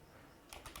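Typing on a computer keyboard while coding: a few quick, faint keystroke clicks in a short burst near the end, alone in a quiet room.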